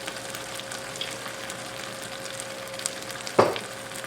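Ground meat fries in a pan with Worcestershire sauce just added, a steady soft sizzle running throughout with a brief louder burst of hissing near the end.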